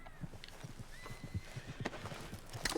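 Quiet clip-clop of a horse's hooves in Red Dead Redemption 2, a loose rhythm of soft thuds with a faint whinny mixed into low game ambience.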